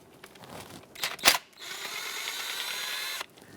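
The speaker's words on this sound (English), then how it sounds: "Remove all the valve cover bolts, starting from the outer ones, working your way towards the middle." A ratchet loosens the 8mm valve cover bolts on a 2008–2020 Dodge Grand Caravan, giving a few sharp clicks and then a quick run of fine, fast ratcheting, close and fairly quiet.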